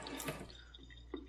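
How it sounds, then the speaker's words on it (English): Warm water runs from a tap over a vinyl boat handle, a soft steady trickle with a few faint splashes and drips. "So let's just get some warm water on this bad boy."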